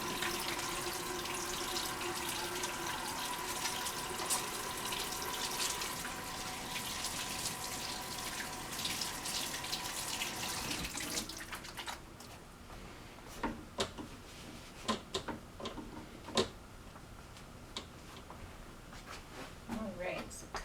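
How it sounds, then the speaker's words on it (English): A kitchen tap runs steadily while sticky hands are washed after making kashiwa mochi, a close, continuous splashing that stops about halfway through, leaving scattered clicks and light handling noises. "my hands are very sticky and slimy, so I want to make sure I wash them before I handle a knife."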